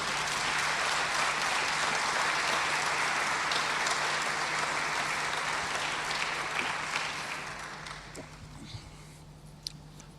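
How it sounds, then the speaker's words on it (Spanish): Church congregation applauding, a full sustained clatter of many hands that thins out and fades over the final few seconds, leaving scattered claps and faint room noise with a low steady hum. "Le damos un aplauso al Señor Jesucristo."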